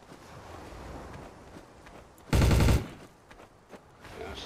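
Gunfire erupts in the video game Trouble in Terrorist Town, a single loud rapid burst of automatic fire lasting about half a second against quiet background game noise and faint footsteps.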